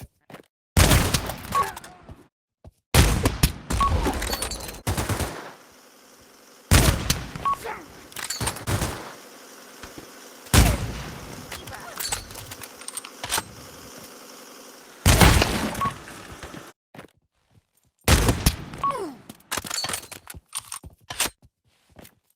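Gunfire in the VR game Pavlov, coming as repeated sharp bursts and single shots spread across the stretch, with quieter gaps between volleys and no clear talk.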